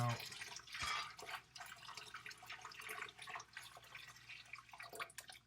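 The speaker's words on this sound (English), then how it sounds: "taking one out and replacing it, dumping the water out" Water poured and splashing out of a glass canning jar while making bread and butter pickles, a sink-side gush with scattered drips and trickles, close and moderately loud, with a faint voice in the background.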